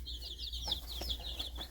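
Several chickens cluck and chirp softly together in a coop, a quiet, busy chatter over a low background hum.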